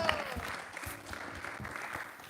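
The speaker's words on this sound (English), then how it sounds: "let's give him a round of applause" Brief round of applause from an audience at a Sunday feast lecture in a New York temple, a soft, steady patter of clapping with faint murmuring underneath.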